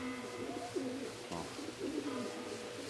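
A racing pigeon arriving at its loft coos softly in repeated low, rolling phrases against steady background noise, heard at moderate distance.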